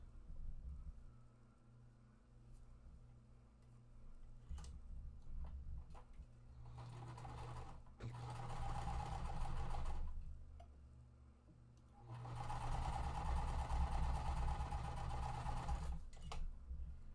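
A sewing machine stitching over quilt fabric, with two sustained runs of rapid whirring stitching, quiet mechanical ticking between them, and a low steady hum throughout.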